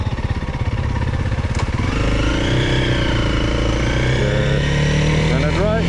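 Motorcycle engine running steadily and close, a loud low rumble with some revving, on a morning ride toward Nordkapp; no one speaks.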